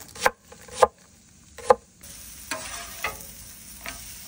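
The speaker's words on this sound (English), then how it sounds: "Chop up an onion. I'm going with a red." A knife chops a red onion on a cutting board in a few sharp, spaced knocks, followed by softer taps over a low kitchen sizzle of frying potatoes, with no talking.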